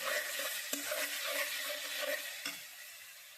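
Chicken frying in hot oil in a pan while being stirred, a steady dense sizzle with light scraping strokes of the spoon at an uneven pace, close and continuous throughout with no voices.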